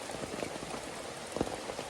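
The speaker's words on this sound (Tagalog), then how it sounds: "wala ibang magawa dahil sa lakas naman ng ulan no?" Heavy rain pours down steadily, a dense, continuous hiss of drops hitting surfaces with no voices.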